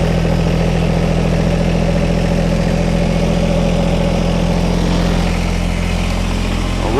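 Kubota BX compact tractor engine runs steadily near at a constant idle, a loud even diesel chug with no pauses or voices.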